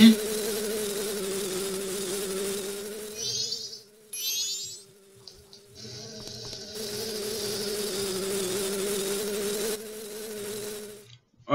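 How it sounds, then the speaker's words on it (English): A bee buzzes in the video game The Legend of Zelda: Majora's Mask, a steady droning hum that runs for several seconds with brief gaps and short sparkly game effects, no voice over it. "Bee?"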